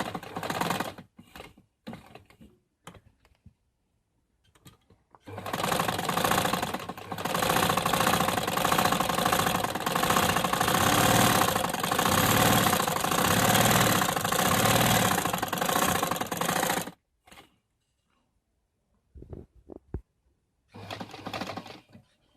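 A sewing machine stitches a single collar for a ladies' suit, running steadily and loudly for about twelve seconds, with short start-stop bursts before and after and quiet gaps in between.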